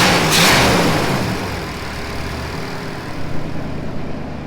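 Chevy Bel Air engine fitted with Holley Sniper EFI and straight pipes, running loudly and close by with a steady idle rumble and a brief rev near the start.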